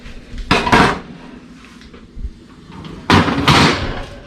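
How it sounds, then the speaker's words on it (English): An orange cake in its pan comes out of a kitchen oven, with two loud bursts of metallic clatter and oven door bangs a few seconds apart and quieter rustling between them. "So carefully remove it out of the oven."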